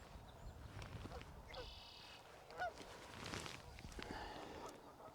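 Canada geese honk intermittently in the distance in a wildlife area over low background noise, with a couple of louder calls in between.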